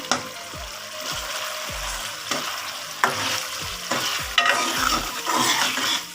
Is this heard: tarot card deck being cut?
no